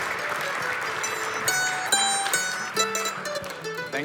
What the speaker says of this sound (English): a round of applause as we bring them up to talk to us.